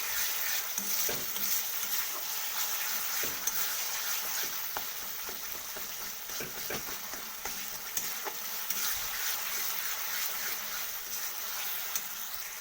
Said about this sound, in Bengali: মশলাটাকে আমি একটু ভেজে নেবো ভালো করে